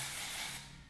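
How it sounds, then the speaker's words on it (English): A dry texture spray hisses onto hair in one short, close burst that fades out near the end. "I personally don't feel like you can overuse texture sprays because it's a dry spray."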